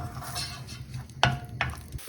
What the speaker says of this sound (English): Now I'm going to add the onions, and I light fry them until they get